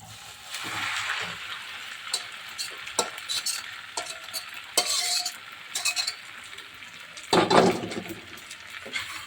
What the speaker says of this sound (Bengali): ঝরঝরা করা সিদ্ধ পাট শাকটা আমি এখন ওখানে ঢেলে দিচ্ছি